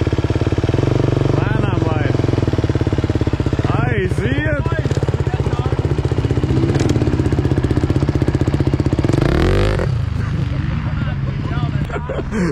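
A motorcycle engine runs loudly and close, revving up and down with rising and falling pitch sweeps, while people talk over it.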